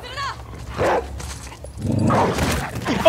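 A dog barks in the video game The Last of Us Part II, two loud bursts of barking separated by a short gap, mixed with game effects and other sound.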